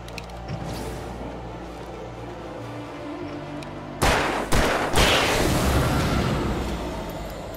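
Shotgun blasts in a video game: after a few seconds of quieter ambience, a cluster of loud, close reports fires in quick succession, followed by a lingering rumble.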